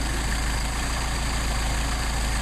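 An engine idling steadily while its carburetor idle screws are being adjusted, a constant close, loud rumble with a low pulsing throb that never changes, heard alone without any voices.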